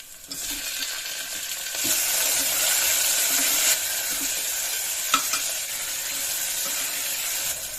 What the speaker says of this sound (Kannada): ಮೆಣಸಿನ್ಕಾಯಿ ನೋಡಿ ಈರುಳ್ಳಿ ಕೂಡ ಚೆನ್ನಾಗಿ ಎಲ್ಲ ಫ್ರೈ ಆಗಿದೆ ಇದು ಈಗ ಟೊಮೆಟೊ ಹಾಕೊಂಡ್ಬಿಡಿ